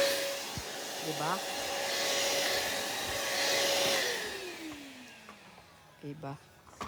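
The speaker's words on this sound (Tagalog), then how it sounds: "Vacuum tayo dito sa kabila." A vacuum cleaner runs steadily with a loud whooshing hiss, its motor tone holding and then dropping in pitch as the machine winds down, while voices talk over it.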